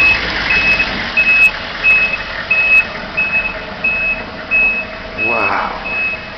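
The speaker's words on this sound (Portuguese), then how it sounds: "O caminhão já tá raspando a neve aqui." A snowplow truck scrapes snow during a snowstorm in Acton, Massachusetts, with its reversing alarm beeping evenly throughout over a rumbling engine and a louder scraping surge near the end.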